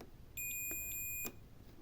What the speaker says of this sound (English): if I press this button, you'll hear the beep from my multimeter